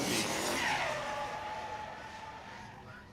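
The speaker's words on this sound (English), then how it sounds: "the little metal on pavement noise. So definitely driving with a debeated left rear tire at this point" A drift car in Formula Drift Pro Spec knockout qualifying skids past on a debeaded left rear tire, a loud close squeal and scraping roar that slowly fades, with a faint grinding edge.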